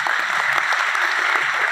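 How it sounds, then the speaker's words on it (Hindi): A crowd at a seated gathering claps hard, producing a dense and continuous burst of loud applause that lasts for a brief moment without any voices over it. "ताली जोरदार वाली बजा लीजिए सर"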